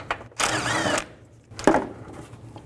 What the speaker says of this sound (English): Use a 15mm socket. Take these bolts out.